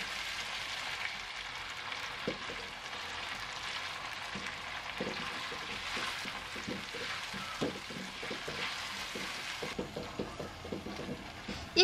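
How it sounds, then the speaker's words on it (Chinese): Chili bean paste and a chunk of hot pot base stir-frying in a wok, a steady close oil sizzle with repeated soft scraping and stirring knocks that grow busier toward the end, with no talking. "再加入勺豆瓣酱，加一小块的火锅底料进去翻炒，炒出里面的香辣味"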